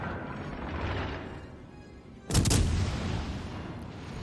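A single heavy, booming salvo of battleship guns firing HE shells in World of Warships Legends rises sharply out of a steady rumbling background midway through, then fades slowly.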